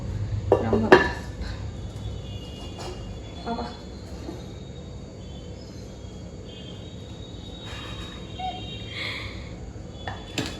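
A metal spoon clanks against a pot of chicken biryani, then quieter scraping and soft clinks as it is served onto plates, with faint background murmur.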